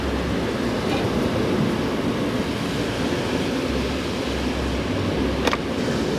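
Surf rolling onto a beach with a steady, broad wash and low rumble, continuous and fairly loud throughout, with a brief sharper splash near the end and no voices.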